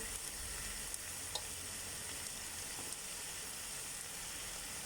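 Beef for German goulash browning in a pan, a faint, even sizzle with a couple of small ticks, no voices.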